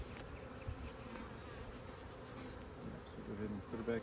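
Package honey bees buzzing at a hive during an inspection, a continuous, moderately loud swarm drone with small swells and a few brief nearby handling noises toward the end.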